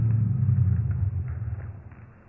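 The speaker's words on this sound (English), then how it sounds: "Oh, there's a new car." A car pulls up with a low engine rumble, loud at first and then fading as the vehicle slows and settles, with faint knocks over narrow, old-fashioned sound.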